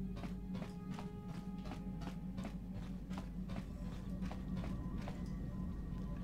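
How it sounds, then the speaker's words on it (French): Footsteps sound behind the listener aboard a ship in Star Wars: Knights of the Old Republic, a quiet, evenly paced series of soft taps over a low constant hum. "Vous avez l'impression d'entendre des bruits de pas derrière"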